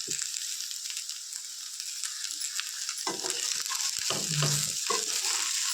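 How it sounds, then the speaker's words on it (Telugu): Taro root (colocasia) curry fries in a pan with a soft continuous sizzle, joined later by a few stirring scrapes and clatters near the end. "ఇంకా ఫ్రై అయితే రెడీ అయిపోయిందండి చామదుంపల ఫ్రై"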